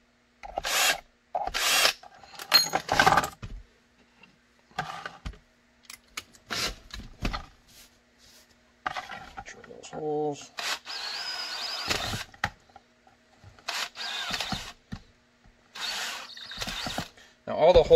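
Short bursts of a power drill whirring on and off, drilling 7/32-inch holes for a Canik TP9 SFx holster, with pauses and clicks in between, close by and moderately loud.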